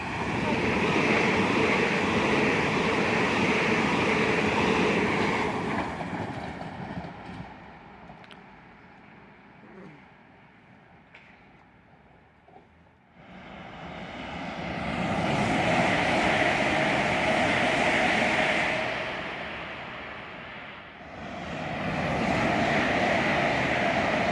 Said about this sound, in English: And here it is now. 2-coach Turbostar, as anticipated.